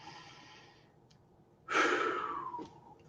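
A slow, deep breath: a soft airy inhale followed after a short pause by a fuller, louder exhale that trails off, close and alone.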